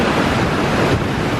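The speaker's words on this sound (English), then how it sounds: "One of New Zealand's must-see waterfalls." Steady roar of the Devil's Punchbowl waterfall at Arthur's Pass, New Zealand, a loud, continuous broadband rush of falling water with some wind buffeting, no voices.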